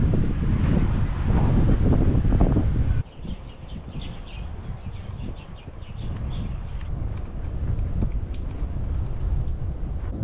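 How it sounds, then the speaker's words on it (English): Loud wind buffets the microphone on a bicycle path in Taiwan. It roars hardest for the first three seconds, then settles into a steadier, lower rush with a few faint higher tones, and no one talks. "Wind's making this thing spin today. It's so loud."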